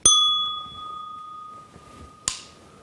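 A small bell struck twice during an engineering acoustics lecture demonstration: a sharp strike that leaves a clear ringing tone fading slowly, then a second distinct strike about two seconds later.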